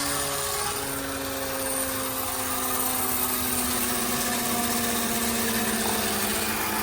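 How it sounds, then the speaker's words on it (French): A two-stroke motorcycle engine runs as a steady, buzzy, high-pitched drone with a dense, noisy texture, held close and continuous without clear separate throttle blips. "Pour ceux qui se posent la question de pourquoi on met des coups de gaz à la décélération"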